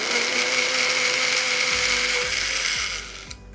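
A kitchen blender whirs loudly at high speed, mixing grated coconut with water for a second pressing of coconut milk, then its motor pitch drops and it slows, rattling unevenly before stopping.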